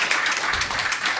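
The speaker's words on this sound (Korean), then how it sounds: "더 큰 박수 부탁드리겠습니다." An audience at a live book concert applauds, producing a steady, dense wash of many hands clapping together, moderately loud and continuous throughout with no speech over it.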